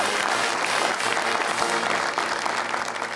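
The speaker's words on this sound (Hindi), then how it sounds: "तालियां बजाएं इनके लिए जोरदार" Loud, dense applause from a crowd, sustained and steady throughout with no pauses.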